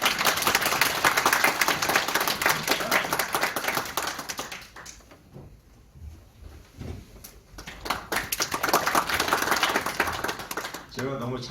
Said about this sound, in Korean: 빠른의 공동 대표이신 김태훈 대표이사님을 큰 박수로 모시겠습니다.